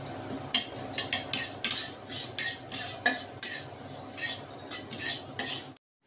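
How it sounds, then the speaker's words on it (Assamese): A utensil scrapes repeatedly against a pan as semolina (sooji) dry-roasts over a low flame, producing close, steady, rhythmic stirring strokes with no voices. "একেবাৰে ল' ফ্লেমত ধুনীয়াকৈ মই চুজিখিনি ভাজি লওঁ"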